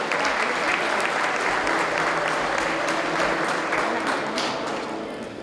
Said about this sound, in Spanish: Fuerte el aplauso, la fotografía del recuerdo.